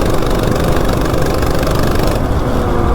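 A CT200U-EX mini bike fitted with a 420 big block engine runs loud and close with a steady, rough, throbbing drone that holds without a break.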